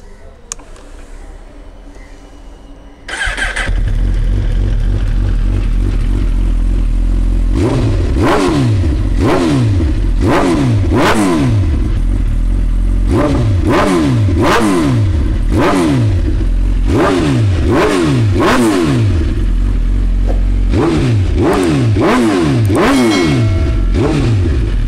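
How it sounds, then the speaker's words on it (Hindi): Superbike with a full system exhaust starting up, then revved hard again and again, loud close bursts of rising and falling engine roar over a steady idle. "This exhaust note is completely out of this world."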